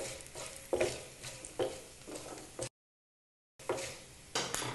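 A spoon stirs dried red chillies into a potato curry in a pan, with repeated scraping strokes over a soft frying sizzle, briefly cutting to silence before stirring resumes.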